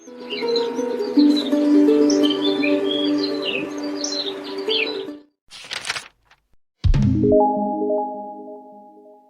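A pancawarna songbird sings a run of sharp, varied chirps and whistled notes close by, then falls silent after a few brief rustling bursts before a final clear tonal phrase.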